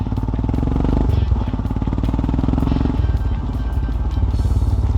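Royal Enfield Himalayan motorcycle under way, its single-cylinder engine thumping steadily and loudly up close, with a throttle change near the one-second and three-second marks; no talking.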